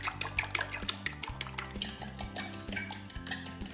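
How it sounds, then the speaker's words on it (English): Eggs are whisked in a bowl for a cheese omelette, giving a fast, close run of rhythmic clinks and taps of the whisk against the bowl, with no voices. "And then give them a good whisk around."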